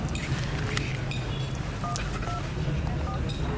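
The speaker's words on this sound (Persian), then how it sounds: "اجازه بدیم من همین الان به آقای عزیزان تلفن کنم" Telephone number being dialed in a Persian drama film, a quick series of short tones and button presses standing out over a steady low background hum, with no talking.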